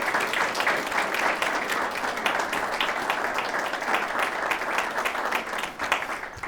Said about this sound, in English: So give a hand of applause to these gentlemen tonight.